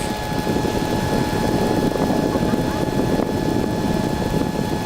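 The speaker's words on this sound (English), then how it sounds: "So if I step on the gas, propeller turns faster, and we go up." Powered hang glider engine and propeller roaring steadily in flight above the clouds over Oahu's North Shore, Hawaii, a loud, continuous close drone with wind rush and a faint voice underneath.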